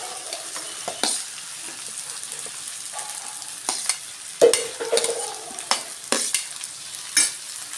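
Cut ivy gourd (tindora) fries in a pan with ginger-garlic paste, a soft sizzle running underneath. Scraping stirs knock against the pan at irregular intervals.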